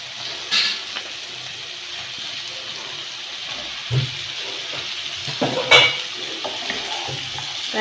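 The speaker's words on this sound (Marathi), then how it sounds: "टमाटरला छानपैकी मऊ होऊ देणार तेलात आता मी यात शेंगा टाकते" Broad bean pods drop into tomatoes softening in hot oil, leaving a quiet, steady sizzle broken by a few sharp clinks and scrapes of a utensil against the pan.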